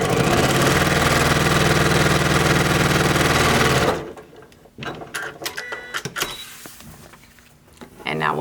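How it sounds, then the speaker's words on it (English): A sewing machine stitches quilt fabric from selvage to selvage, a loud steady mechanical whir for about four seconds, then stops, leaving quiet handling noises. "I'm going to sew from that selvage to that selvage."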